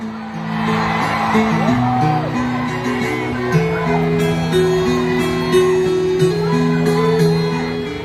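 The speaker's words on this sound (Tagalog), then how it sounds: "Isang malaking sigaw!" A large crowd at a political rally in Davao, Philippines shouts and cheers loudly, with whoops and voices overlapping continuously over amplified sound in a big space.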